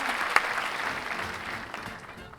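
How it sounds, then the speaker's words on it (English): A short burst of light clapping from a small group, fairly close, holding steady for a couple of seconds before thinning out. "I'm going to give this a pleasant applause as well"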